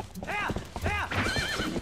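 A horse in the video game Twilight Princess whinnies with a quick run of rising and falling neighs, close and fairly loud, within under two seconds.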